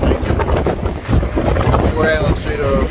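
Boat setting off on windy water on a South Island trip, a steady loud rush of wind buffeting the microphone over engine and water noise, with voices talking underneath.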